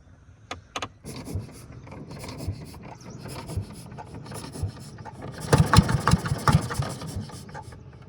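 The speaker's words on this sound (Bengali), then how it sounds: "আমাদের মেশিন কিন্তু ফাইনালি স্টার্ট উঠেছে" A fishing boat engine on a river is cranked with rough, rasping mechanical strokes that build unevenly, then catch in a louder, sputtering burst toward the end. It is close, with no talk.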